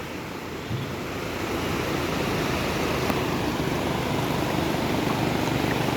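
Sea waves rolling onto Cox's Bazar beach on a morning visit, a steady wash of surf that swells slightly louder after the first second and stays continuous, heard from a short distance with a faint windy hiss.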